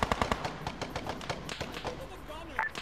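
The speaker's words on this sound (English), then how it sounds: "be advised, they're shooting through the wall" Video game gunfire shooting through a wall in an underground battle with an M113 armored vehicle: rapid bursts of sharp cracks in quick succession, some nearer and louder, with voices talking over the shots.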